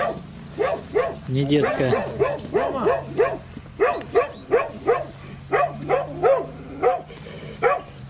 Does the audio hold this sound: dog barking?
yes